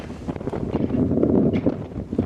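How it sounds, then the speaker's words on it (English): Gusty wind buffets the microphone outdoors by a lake at Clinton Community College, a low rumbling roar that swells and fades unevenly. "Pretty breezy out here."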